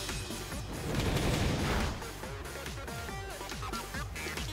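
Fire Pledge attack in Pokemon Sword during a gym battle against the Fighting Gym Leader Bea: a dense, loud crackling burst of rapid impacts swelling over the first couple of seconds, then settling under steady game music with repeated effect hits.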